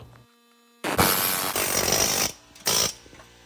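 An air hammer on a Saturn Vue drives out an engine cradle bushing in two loud, close bursts, a long rattling run followed by a shorter one after a brief pause.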